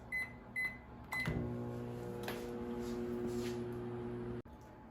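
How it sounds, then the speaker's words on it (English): A microwave oven hums steadily after a few beeps and the door closing, its low drone running for several seconds before stopping abruptly. "So let's put them in the microwave."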